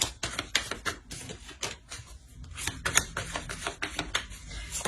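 Tarot cards drawn and laid down during a reading, a dense run of quick, crisp papery snaps and taps, close and fairly loud, with no voice.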